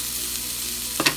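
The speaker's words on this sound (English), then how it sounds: "And see, it's just gonna fry. It's not gonna make them mushy." Potatoes fry in hot oil in a pan over high heat with a steady sizzle. A sharp burst of crackling comes near the end, with no talking.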